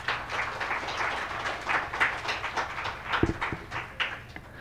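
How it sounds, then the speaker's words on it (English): An audience at a literary festival talk applauds steadily, a dense patter of many hands clapping together from a moderate distance, with no voices on top. "Please give them a round of applause"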